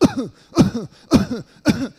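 A voice imitates whooping cough, a cough that leaves no breath: four harsh coughing fits, each followed by a rising whooping intake of breath, evenly spaced and close.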